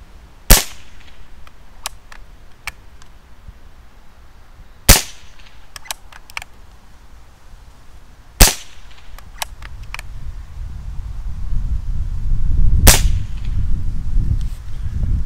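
BSA Scorpion SE Tactical air rifle fired without a silencer: four sharp, loud cracks spaced a few seconds apart, each followed by faint metallic clicks of the bolt, over a quiet background that turns to a low rumble near the end.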